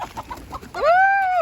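A farm chicken gives a loud, close, drawn-out squawk lasting about half a second, preceded by soft chatter and low clucking from the flock.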